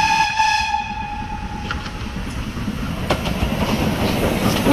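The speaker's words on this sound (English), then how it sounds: "the continuous comforting sound of the wheels on the iron rails" Heritage steam railway train on the Strathspey Railway, wheels clattering steadily over iron rails in a continuous rolling rumble, with a brief high whistle-like tone fading early on.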